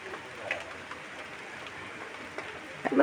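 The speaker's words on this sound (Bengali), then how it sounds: "এরকম বৃষ্টি হয়ে যাচ্ছে কন্টিনিউ।" Steady rain pours down outdoors onto a road where a car stands getting soaked, a continuous even hiss with a few faint bird calls in the background and no talking.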